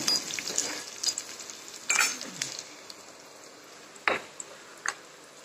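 Ragi flour batter roasting in a pan for spongy idli, with soft sizzling, light scraping and a few small clinks of a utensil against the pan, quiet and close.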